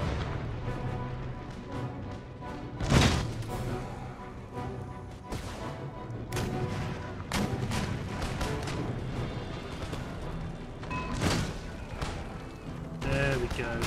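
Scattered booms of field artillery in Empire: Total War during a Portuguese campaign battle, several heavy cannon blasts spaced out over a steady background rumble of distant musketry and battle noise.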